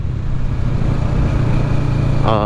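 Kawasaki ER6N motorcycle fitted with an Akrapovic exhaust and dB killer, idling loud and close with a steady deep rumble throughout.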